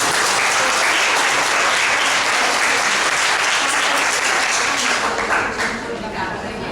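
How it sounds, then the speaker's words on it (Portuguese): An audience applauds students at an educational technology fair, with sustained dense clapping that stays loud throughout and eases slightly near the end, with voices faintly underneath. "Vamos dar uma aplaudir?"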